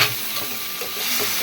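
Onions sautéing with salt in a pan, steady sizzling, a dense hiss with faint stirring scrapes, close and continuous.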